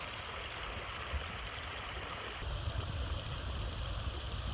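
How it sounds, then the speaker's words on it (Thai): A rural waterfall stream rushes steadily, a broad continuous wash of flowing water that grows slightly louder and fuller partway through. "นี่คือน้ำตกนะจ้า"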